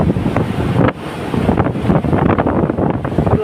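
Sea waves surge into a coastal rock cave, churning loudly alongside strong wind buffeting the microphone, a continuous broadband roar with no talking.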